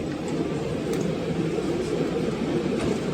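Steady rumble of a train at Guadalupe Station platform, a continuous loud hum and rolling drone with faint squeaks on top, no voices over it.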